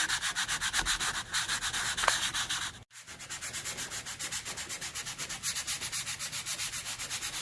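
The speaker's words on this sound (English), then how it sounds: "I take the sandpaper and just kind of fold it a little bit here and work my way around the edges, feathering it out to make it smooth" Folded sandpaper rubbed by hand over the edges of a door, a steady close scratchy back-and-forth sanding with rhythmic strokes, broken by a brief pause near the middle before the rubbing resumes.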